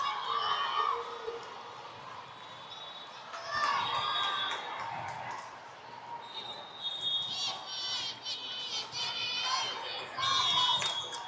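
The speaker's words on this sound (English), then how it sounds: "Sideline cheering." Spectators along the sideline of a youth volleyball match cheer and shout in an indoor gym, a busy mix of children's voices and crowd noise rising in bursts over several seconds, with scattered talk and squeaks underneath.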